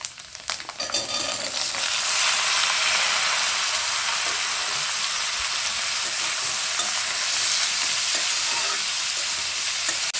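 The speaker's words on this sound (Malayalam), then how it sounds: "നമുക്കിതിലേക്ക് അരിഞ്ഞു വെച്ചിരിക്കുന്ന ചെറിയ ഉള്ളി ഇടാം." Chopped small shallots frying in a pan with golden-browned grated coconut, a loud, steady, close sizzle that fills the whole stretch after a brief clatter at the start.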